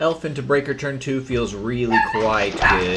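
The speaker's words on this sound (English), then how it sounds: "Apologies for my dog." A dog barks in yips and whimpers, close and loud, mixed with someone talking over it.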